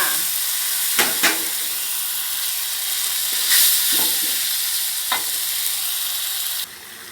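Chicken breast stir-fries with curry paste in a wok, producing a continuous moderate sizzle punctuated by several sharp spatula scrapes and clanks.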